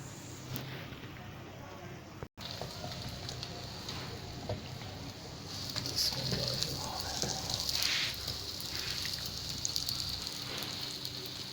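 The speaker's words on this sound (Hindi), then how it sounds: "अब हम इसको बिल्कुल हल्की आग पे जो है इसके ऊपर इसे हम फ्राई करेंगे।" A chicken cheese paratha fries in a pan over a low flame, giving a steady soft sizzle that runs throughout, briefly cutting out near the start and growing a little louder and crackly partway through.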